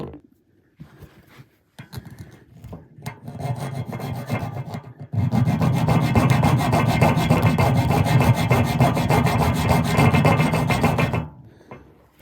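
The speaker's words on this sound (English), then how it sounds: "I'm going to have to get my hacksaw blade, just cut it, nip it off" A hacksaw blade cuts through a pipe nut, starting with a few tentative strokes and then settling into steady, loud, continuous rasping back-and-forth sawing for several seconds before stopping abruptly, with no talk.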